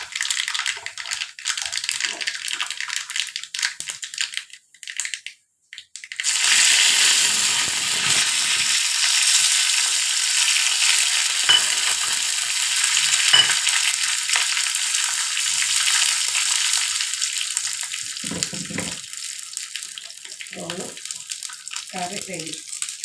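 Mustard seeds, green chilli, curry leaves, cumin and urad dal hit hot oil in a pan for tempering taro-leaf curry, with a sudden loud, steady sizzle that continues for most of the clip after a few stirring clicks and brief talk.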